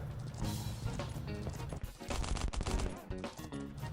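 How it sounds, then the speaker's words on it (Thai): Sustained gunfire between players in the survival game Last Island of Survival, dense rapid shots and bursts that keep going without pause, fairly loud and close. "ยิงกันอยู่เลยครับ"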